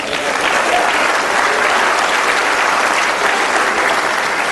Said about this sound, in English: I know a lot of you are clapping